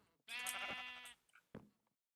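A Minecraft sheep in the FTB modpack gives one drawn-out, wavering bleat, clear and close, then a short second bleat after a brief pause.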